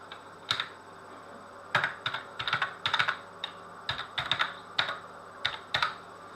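Typing an Apple ID password on a computer keyboard: a quiet, close run of irregular key clicks in short bursts with brief pauses, no voices.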